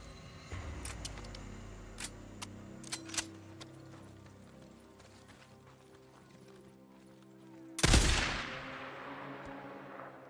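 Gunfire from a weapon in the video game Days Gone: a single loud, sharp shot with a ringing decay late in the clip, preceded by scattered quieter clicks and thumps over an ambient game background.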